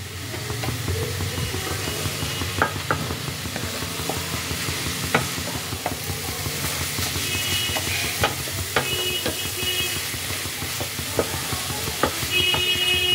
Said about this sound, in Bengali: আবারও খানিকক্ষণ একটু নাড়িয়ে চাড়িয়ে নিচ্ছি।